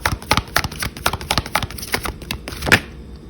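Tarot cards are shuffled by hand in a rapid run of close, crisp riffling taps and slaps that come in uneven bursts, with one sharper snap near the end, and no one speaks.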